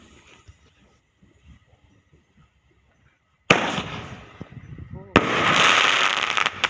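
Quiet talking gives way to two sudden loud bursts of New Year fireworks, each followed by a sustained crackling, hissing roar that fills the rest of the clip.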